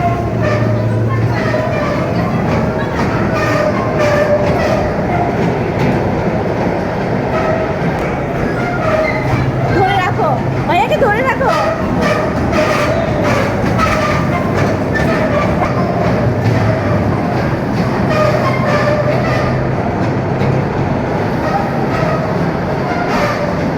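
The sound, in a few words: train moving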